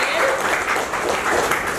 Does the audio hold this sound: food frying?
no